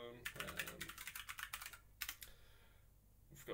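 Computer keyboard keys tapped in quick irregular bursts while navigating a hobby operating system with page up, page down and cursor keys, close and crisp, with a short pause before a final keystroke.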